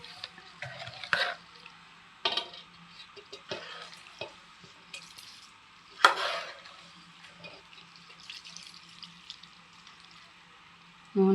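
Cooled tempering oil is poured over chopped turkey berry pieces for a pickle and stirred in, giving close, intermittent wet scraping and mixing bursts separated by quiet pauses.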